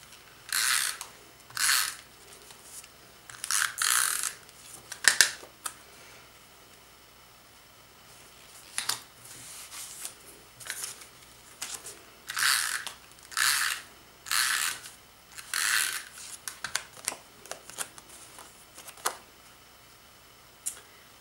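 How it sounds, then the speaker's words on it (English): A die-cutting machine is hand-cranked with an embossing folder inside, making bursts of quick ratcheting clicks separated by short quiet pauses, close and fairly soft, with no talk. "I just used our regular close to my heart embossing folder and put the squares in on the diagonal"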